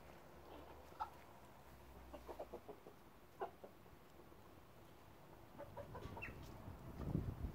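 Several hens cluck softly in short, scattered bursts at a distance, over quiet background noise with some rustling near the end.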